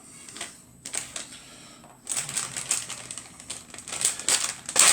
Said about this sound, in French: Je vais éplucher mon chorizo.